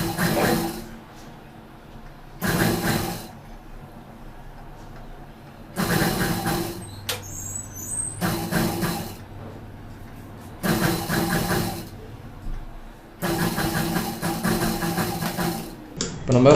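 A sewing machine stitches piping around a PAA-style neck in five or six bursts of a second or two each, with quieter gaps between them.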